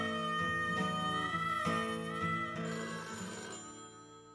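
A telephone bell rings in a steady series of bright, trilling bursts, close and fairly loud, with no voices over it, fading slightly toward the end.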